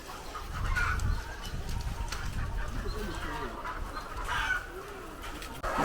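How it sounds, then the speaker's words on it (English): Layer hens on a poultry farm cluck and murmur continuously throughout, with a steady mix of bird calls over a busy background of farm noise. "we are now at the poultry farm. So these are all layers in here."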